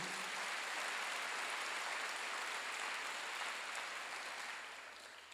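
A church congregation applauds during a Wednesday worship service, a dense, steady wash of many hands clapping together that holds loud and even before tapering off slightly at the end.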